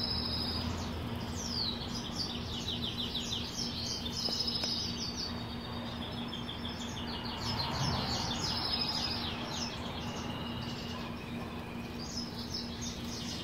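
Goldfinch chicks chirp in quick, repeated high tweets after being misted with a water spray, a steady busy chatter over a constant background hiss and low hum.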